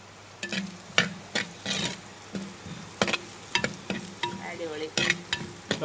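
Mango pieces sautéing with curry ingredients in a pan for a fish curry give a soft background sizzle broken by repeated scraping and stirring strokes in an uneven rhythm.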